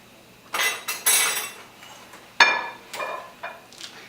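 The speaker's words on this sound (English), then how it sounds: "Put it right here on my cutting board." A pork loin is set down on a cutting board with a few soft, light knocks and clinks, followed by scattered smaller taps of kitchen utensils in a quiet kitchen.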